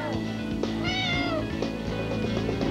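A cat meows once, a clear drawn-out cry near the middle, heard over a steady background of low music or room noise.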